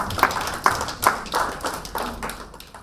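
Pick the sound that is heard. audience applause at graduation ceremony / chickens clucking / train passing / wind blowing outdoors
audience applause at graduation ceremony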